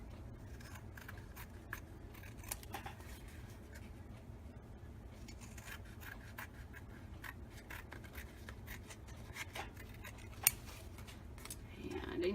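Scissors trimming the edges of paper, a series of quiet, crisp snips spaced irregularly over a soft background, with a voice talking intermittently.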